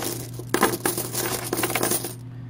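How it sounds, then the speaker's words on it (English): Modern U.S. quarters jingle and clink together in several close, bright bursts as they are shuffled in a hand, over a low steady hum. "Here I'll ruffle some modern quarters."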